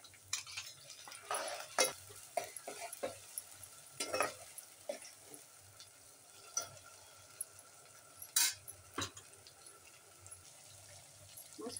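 Chili, ginger and garlic paste hitting onions sautéing in a pan gives a steady close sizzle, broken by repeated scraping and stirring clatters of the spoon against the pan, with no talking.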